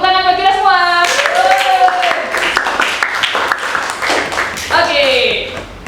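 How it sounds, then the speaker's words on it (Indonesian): A group of participants in a classroom teaching session clap together in a dense, lively burst of several seconds, with a voice speaking just before and again as the clapping fades. "Tepuk tangan buat kita semua."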